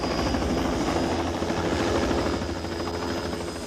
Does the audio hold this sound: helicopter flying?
yes